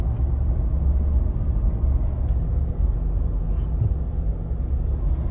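A car rolls slowly into the parking area at the Shikhar Shingnapur temple, its steady low engine and road rumble droning close by, with no one speaking.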